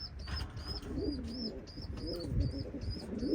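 Soft, repeated tumbler pigeon coos rise and fall in the low range, with brief higher chirps recurring throughout against a busy background.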